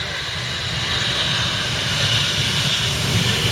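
A Harrier jump jet's engine, delivering 21,500 pounds of thrust on its takeoff roll, roars as a steady, broad, loud rush that builds slightly and holds for the full stretch with no voices.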